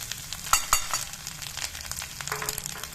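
Green chili, ginger and coconut fry in a pan with a steady bright sizzle and crackle, punctuated by a couple of sharp pops and stirring scrapes, close and continuous.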